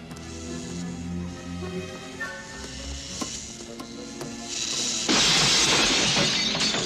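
Glass shatters in a scene from the film Mac and Me: a loud, dense crash bursts in near the end and sustains over the scene's music and scattered effects.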